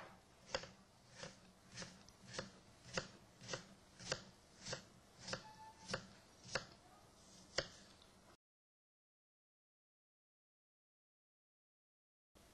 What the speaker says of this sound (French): Nous allons maintenant émincer les pommes.